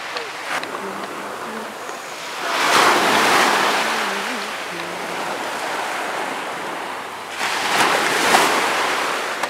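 Ocean waves breaking on a Florida beach on a warm day, with two swelling surges of surf washing in over a steady rush, and a faint insect-like buzz in the background.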